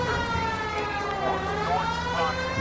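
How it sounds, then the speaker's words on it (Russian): A police car siren in the video game L.A. Noire wails continuously with rising and falling tones, steady and fairly loud, with faint engine rumble beneath. "тут явно сирена нужна"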